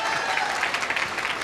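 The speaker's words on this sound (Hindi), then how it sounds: "एक बार जोर से ताली बजा के दिखाओ" Audience applause at a seminar stage event, a loud, even burst of many hands clapping that fills the whole moment without letting up.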